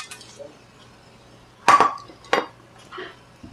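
Whole garam masala spices go into hot oil in a kadai, with a couple of sharp metallic clinks and brief scraping bursts up close, followed by softer rattles over a quiet background.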